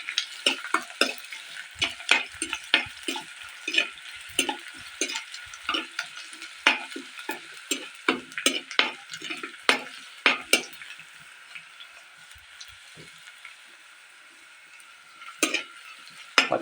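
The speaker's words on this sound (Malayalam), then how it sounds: "വെളുത്തുള്ളി ഒന്ന് മൂത്ത് വരുന്നേരം ഒന്ന് ഇട്ട് കൊടുക്കാം." Garlic and ginger fry in a pan for a sardine curry, a steady sizzle broken by frequent sharp scrapes and clicks of stirring, close and clear with no talk.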